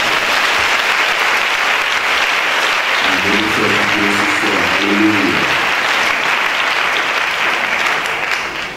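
A church congregation applauds and cheers for Jesus, sustained loud clapping filling the room from start to finish, with a brief sung or spoken voice rising in the middle.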